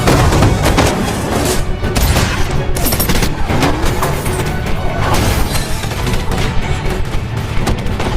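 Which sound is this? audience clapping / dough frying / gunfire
gunfire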